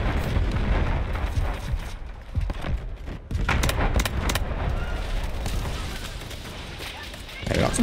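Hip-fired gunfire in the shooter game Delta Force comes in several sharp bursts amid ongoing battle noise, with a person talking over the action.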